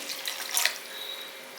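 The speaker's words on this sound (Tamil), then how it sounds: "இப்போ இதில் கொஞ்சம் தண்ணி விடுங்க" A faint, brief splash of water being poured into a curry, then a quiet lingering hiss.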